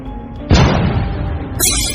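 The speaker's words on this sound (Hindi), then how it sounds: "अरे ये क्या, गुल्ली तो पटाखे फोड़ रहा है।" Cartoon firecrackers going off: a sudden loud burst followed by a decaying rumble, then a bright crackling pop near the end.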